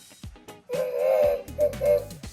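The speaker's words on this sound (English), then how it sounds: "let's hear that horn whistle one more time" A HornBlasters horn installed on a Ford F150 sounds in a few loud toy-like whistle bursts, one long blast followed by two quick toots, with light rustling before it.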